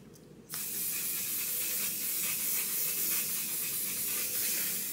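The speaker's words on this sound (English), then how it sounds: "To finish off the makeup look, our setting spray." After a brief quiet moment, makeup setting spray is misted onto a face in one long, continuous close-up hiss that holds steady to the end.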